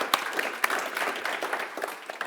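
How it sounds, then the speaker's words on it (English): Applause from the audience at a panel discussion on EU liberal democracy, a spread of scattered clapping with a few sharper claps, moderately loud and steady over a couple of seconds. "But first, a big applause."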